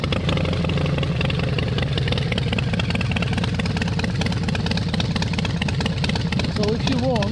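A 128ci motorcycle engine with a stage 4 upgrade idles through a low performance baffled exhaust, a steady loud low rumble running continuously with no talking over it.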